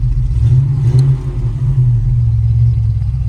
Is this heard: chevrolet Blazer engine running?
yes